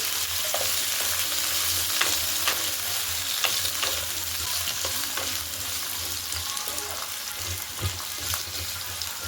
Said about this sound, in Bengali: ভালো করে আলুটা ভাজবেন।